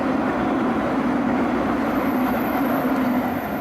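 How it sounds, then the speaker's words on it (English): A train rolls past steadily and fairly loud, a continuous broadband rumble with a low hum that holds for several seconds, no one talking. "The train is going by again."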